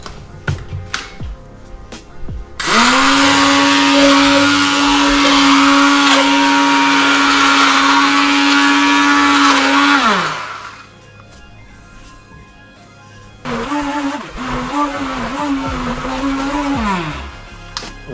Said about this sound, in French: on va passer tout ça au mixeur